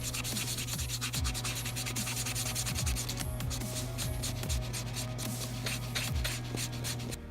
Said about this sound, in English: I'm gonna start coloring this in.